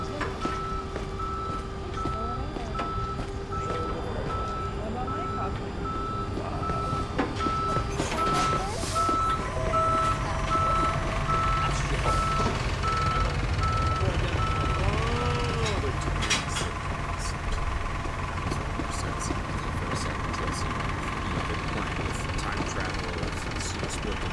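In the video game Police Simulator, a tow truck's reversing alarm sounds as steady, evenly spaced electronic beeps over a running engine and busy background noise. Other game sounds layer underneath for about twenty-four seconds.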